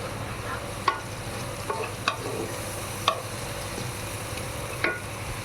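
Spices with turmeric and salt frying in a pan, a soft steady sizzle punctuated by several light stirring scrapes and clicks of a spoon at irregular intervals.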